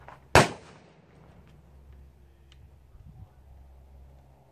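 A single sharp gunshot cracks out at live fire practice, loud and close, then a quiet outdoor hum lingers with faint scattered ticks.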